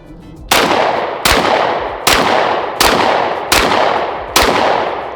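Firearm fitted with a Recover Tactical 20/20 stabilizer brace fired at a range: six loud, close shots at a steady pace under a second apart, each booming sharply and ringing out before the next.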